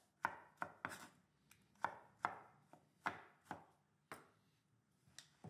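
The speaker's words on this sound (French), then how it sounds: "je vais tailler des morceaux" Vegetables being cut into large chunks for ratatouille, about a dozen sharp knife strikes on a cutting board in an uneven rhythm, close and fairly quiet with no talking.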